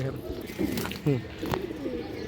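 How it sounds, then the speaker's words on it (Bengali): Pigeons in a large loft collection coo in short rolling phrases close by, while people talk over them. "দেখেন দর্শক খুব সুন্দর কবুতর"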